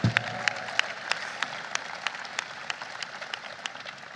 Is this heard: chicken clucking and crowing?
no